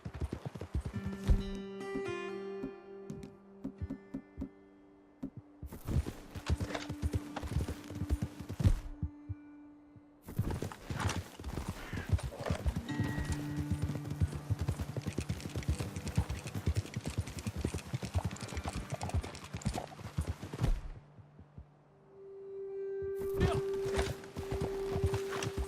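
Horse hooves clip-clopping at a steady walking rhythm in the video game Red Dead Redemption 2, close and clear, broken by short pauses, with sustained music tones and characters talking over parts of it.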